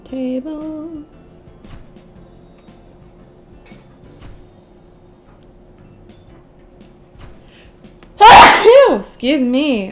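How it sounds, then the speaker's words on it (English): A person sneezes once, sharp and loud near the end, followed by a brief vocal sound, after a long stretch of quiet with faint background clicks and a short voice at the start. "I've been sneezing like no one's business lately."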